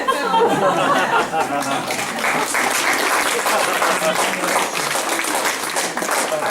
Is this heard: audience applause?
yes